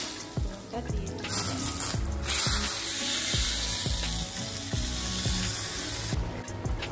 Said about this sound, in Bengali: এবার আমি মাছের ঝোলের মধ্যে ফোড়নটা দিয়ে দেব